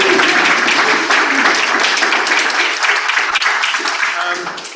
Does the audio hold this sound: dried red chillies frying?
no